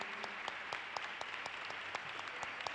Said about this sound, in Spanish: Así que yo propongo un aplauso para el equipo del Senado